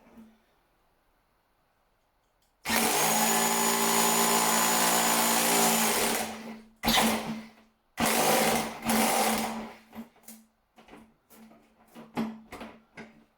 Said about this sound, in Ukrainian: зробив декілька обертів перфоратором до блокування